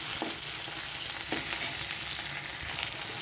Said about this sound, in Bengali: এবারে আমি দিয়ে দেব কেটে রাখা টমেটো। টমেটোটাকেও কিছুক্ষণ একটু নেড়ে চেড়ে নেব।